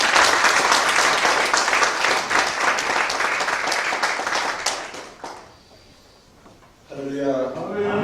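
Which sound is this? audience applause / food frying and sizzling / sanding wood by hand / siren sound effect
audience applause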